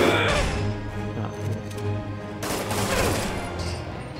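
Enemy gunfire in Marvel's Spider-Man: dense, rapid bursts of shots with crashing impacts fill the scene, loud and sustained over a low game hum, with no clear talking.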